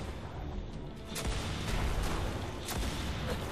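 A Scorch Cannon fires in the video game Destiny, giving repeated loud booming blasts with a rumbling tail over steady game noise.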